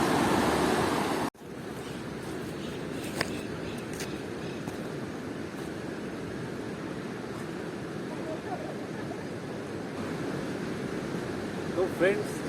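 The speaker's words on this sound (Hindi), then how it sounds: "यहाँ पर पानी का शोर बहुत है इसलिए मुझे जोर जोर से बोलना पड़ रहा है" Rushing river water at the confluence of the Parvati and Beas rivers at Bhuntar in Kullu, a steady loud roar after a sharp cut near the start, with a few faint clicks and brief sounds on top and no clear talk.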